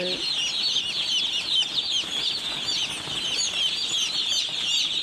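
A dense flock of young poultry chicks on a farm peeps continuously, with many high overlapping chirps and a few wing flutters, close and steady.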